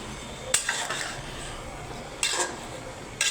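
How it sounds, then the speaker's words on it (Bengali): A utensil scrapes and clatters against a cooking pot in three brief bursts while food with taro root is stirred, separated by quiet pauses with no talk. "দেখেন একটু নাড়াচাড়া করে দিচ্ছে।"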